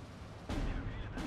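Mortar rounds land on a Panzer II in the Steel Division 2 game, a dull heavy blast thudding in at mid-clip over a constant rumbling battlefield bed, with a second softer impact near the end.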